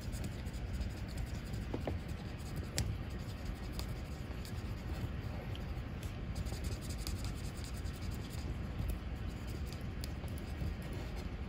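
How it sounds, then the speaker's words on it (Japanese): A marker pen scratches and rubs steadily across three small 8 mm round stickers, colouring them black. The faint, continuous scribbling is heard close up and alone, with no talk. "8ミリ小の丸シール3枚黒く塗りつぶします"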